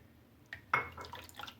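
Water goes into a flour dough mixture for halwa poori, in a few small splashes and drips that start softly and grow a little louder, with no one speaking.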